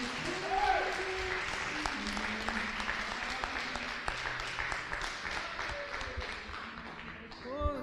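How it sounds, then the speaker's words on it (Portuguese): A church congregation applauds during a worship service, giving sustained, fairly quiet clapping that carries through with a faint voice and some tonal sound in the background. "Vamos dar uma salva de palmas para o Senhor."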